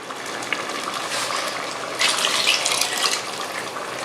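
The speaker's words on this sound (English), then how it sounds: "We're going to add 2 more cups of water to it." Water pours steadily from a tap into a pot of boiling pasta water, a continuous close rushing gush that swells louder partway through, with no talking.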